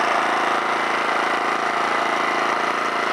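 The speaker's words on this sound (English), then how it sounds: "Yeah, the motor runs all right." An Alton AT04141 generator's motor runs steadily close by, a loud, even mechanical drone with a fast regular chug and no pauses.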